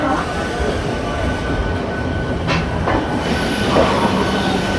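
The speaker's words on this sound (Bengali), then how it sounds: "আর সঠিক টাইমে ট্রেন আমাদের হাওড়া স্টেশনের 7 নম্বর প্ল্যাটফর্ম থেকে ছেড়ে" Local train pulling out of platform 7 at Howrah station, a steady loud rumble of rolling wagons with faint clicks and a thin wheel squeal, continuous and close.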